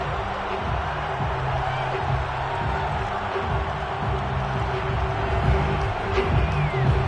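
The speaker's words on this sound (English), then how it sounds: "Plenty of shouts from this crowd as they watch the replay" A football stadium crowd watches a replay during an NFL game, a dense, steady roar of many voices with scattered shouts and whoops rising now and then, with no single voice standing out.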